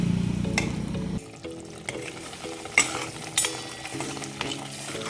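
Onion masala fries in oil in a pan for a matki usal, a soft sizzle running beneath repeated spatula stirs and scrapes against the pan.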